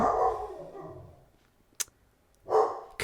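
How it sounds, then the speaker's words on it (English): A pet dog barks indoors in a few short bursts separated by brief silences, fairly close and moderately loud. "My dog is barking again, yes."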